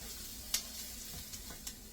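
Chopped onions frying in a pan beside thick-cut bacon, giving a faint, steady sizzle with a few light clicks and pops and no voices.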